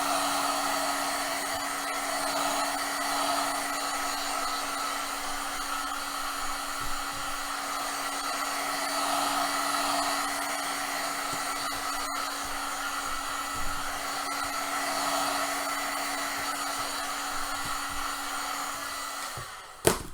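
A hot air gun blows steadily for about twenty seconds at close range, heating a Worbla thermoplastic breastplate piece during cosplay armor making, with a faint click at the end.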